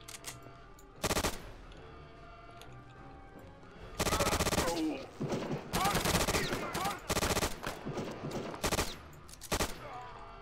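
MG42 machine gun fire in Return to Castle Wolfenstein, loud rapid bursts, a short one early, then repeated long sustained bursts with brief gaps, up close over a faint game background.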